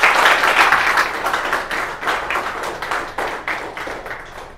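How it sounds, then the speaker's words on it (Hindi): Audience clapping welcomes laptop repair technicians at a mobile and laptop repair training event, loud and close, with individual claps standing out in an uneven rhythm that gradually loses energy. "इनके लिए ज़ोरदार तालियों से आप स्वागत कीजिए"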